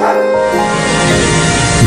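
A dog barks and whimpers in a comedic FM radio film trailer, a loud, dense, continuous stretch of yelping barks with broadcast-style processing.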